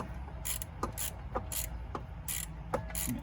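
A ratchet snugs down 10mm bolts on a water pump of a 5.3 LS swapped S10, giving a close series of regular clicking strokes about every half second over a low background hum.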